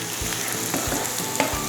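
Garlic and sun-dried tomato sautéing in a pan for a Tuscan salmon dish, giving a steady, fairly loud sizzle with a few soft stirring scrapes.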